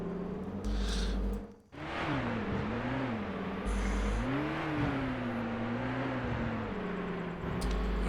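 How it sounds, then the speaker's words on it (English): A video game car engine drones and revs, its pitch rising and falling in waves with gear changes, loud and continuous against a rushing background. "Oh well, noisy car again now."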